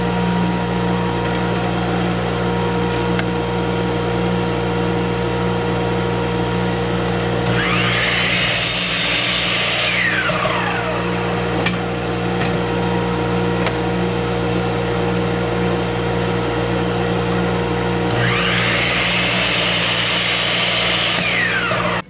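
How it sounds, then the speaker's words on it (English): A workshop dust collector drones steadily throughout while wood pieces are mitered at a saw, and two swelling whines from the blade rise and fall over the constant hum. "So I'm going to go ahead, turn on the dust collector."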